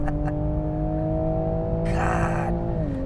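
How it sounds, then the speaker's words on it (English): A 2020 Toyota GR Supra engine droning at steady revs from inside the cabin, with a burst of crackling exhaust pops partway through before the pitch drops. "The pops and bangs coming out of the rear is great."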